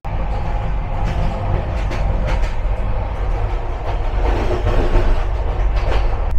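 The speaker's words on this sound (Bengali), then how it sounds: "একশো 30 কিলোমিটার ঘন্টা প্রতি স্পিডে ট্রেন চলছে" Rajdhani Express (12314 Sealdah) running at about 130 km/h, heard from inside an AC 2-tier coach: a loud, continuous rolling rumble with faint rhythmic clickety-clack of the wheels, no voices.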